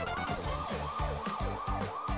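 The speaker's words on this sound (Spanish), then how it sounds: "La ambulancia llevó a la princesa al hospital" A loud ambulance siren wails in a rapid rising-and-falling pattern, repeating steadily over a low rumbling engine.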